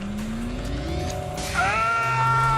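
A car in The Grand Tour game revs with the brake held, the engine pitch climbing steadily before a sharp, high tire squeal rises over the loud, continuous engine roar.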